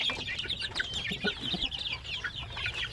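Basilan and Zampen native chickens clucking in a pen, a dense, continuous chorus of overlapping clucks and chirpy calls from several birds, close and moderately loud.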